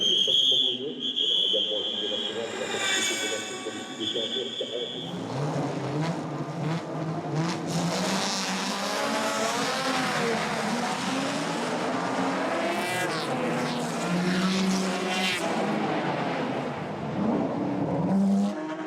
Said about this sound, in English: It's such a thrill to see cars passing by so close at speeds like that.